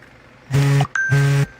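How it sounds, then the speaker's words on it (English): A phone notification sounds twice, two short bright tonal dings in quick succession, close and clear against a quiet background. "Can't Nova put his phone on Do Not Disturb mode when he's making these?"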